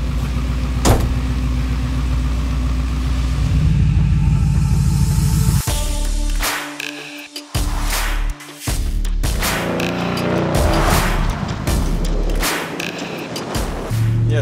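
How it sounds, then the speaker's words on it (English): A carbureted-to-EFI muscle car running a Pro-Flo 4 fuel injection system rumbles loudly from inside, with a deep engine drone that swells and drops as throttle changes, plus occasional clunks and rattles. "let's take this thing for a spin and see how it runs with the Pro-Flo 4 installed"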